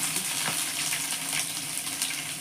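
Green chili and ginger tossed into hot oil with crackling mustard seeds for a fish curry, giving a steady, close hiss of frying with small pops scattered throughout and no talking.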